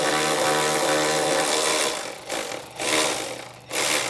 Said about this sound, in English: Milwaukee ratchet to pop that out